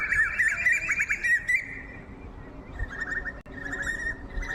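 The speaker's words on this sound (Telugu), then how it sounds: "ఈ పక్షులు అరుపులు అంటారు బాబు" Birds call in a forest, with clear repeated chirps and whistled trills close by, a burst at the start and more calls returning later over a low rustling background.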